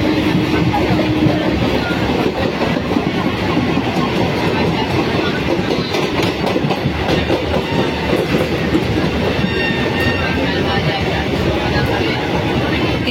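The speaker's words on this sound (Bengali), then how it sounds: "মশাগ্রামের তো বেলুড় স্টেশন এসে গেছে, বেলুড়ে ঢুকে গেছে ট্রেন।" A local train on the Howrah to Dankuni line rolls into Belur station with a loud, steady rumble and clattering wheels heard from on board, and voices mix into the din.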